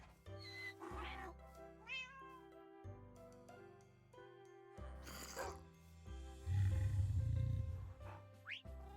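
Cats meow repeatedly in the Minecraft video game, several short tonal calls spread over the clip with one louder rasping burst near the end, alone without talk.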